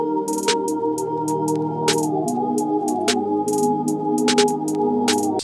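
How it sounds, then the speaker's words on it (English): A full UK drill beat plays, with sliding 808 bass, a sustained melodic line, snappy hi-hat rolls and punchy drums, loud and continuous with no voice. "the whole beat should sound like this."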